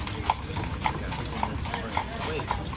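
A big mule, its mother a Belgian draft horse, clip-clops while pulling a carriage through the New Orleans French Quarter, its hoofbeats sounding at a steady walking rhythm about every half second over street ambience and talk.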